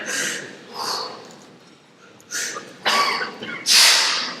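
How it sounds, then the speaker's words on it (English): A person breathing normally at rest, several soft airy breaths close by with pauses between them, the last few louder and sharper. "So you initially breathe normally."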